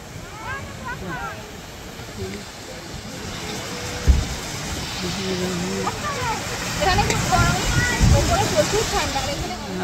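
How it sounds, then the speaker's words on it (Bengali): The waterfall at Rock Garden in Darjeeling gives a steady broadband rush that fills the background, while people talk over it throughout. "চলে এলাম রক গার্ডেনে, ঝর্ণার আওয়াজ"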